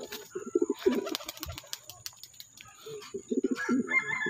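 Racing pigeons kept for exercise flights coo in soft repeated bursts nearby, with rapid wing flaps and a few other bird calls in between.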